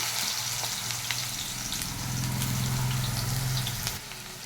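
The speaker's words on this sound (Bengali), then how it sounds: "তেলটা গরম হয়ে গেছে খুব ভালো করে আলু ভাজা করে ছেড়ে দিচ্ছি" Potatoes frying in hot oil with salt and turmeric for a Bengali dish, a steady, close sizzle that rises slightly midway and carries on without talk.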